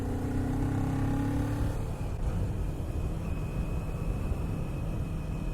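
Kawasaki Z400 ABS 2019 motorcycle engine revving, a steady close engine drone with a held rising tone in the first two seconds that then settles into a rough, even idle-like rumble, with no talk.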